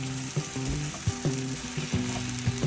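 Fried squid and onions sizzle steadily in a pan for a Sri Lankan dallo devilled dish, with a continuous hissing fry broken by a few clinks and stirs of a utensil, close and alone without talk.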